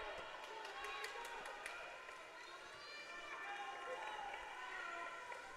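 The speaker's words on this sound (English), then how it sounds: "You can hear the crowd getting into this one." Spectators at a high school boys' swim meet in a pool hall, a broad echoing crowd roar with scattered whistles and cheers rising and falling continuously, under a commentator's voice.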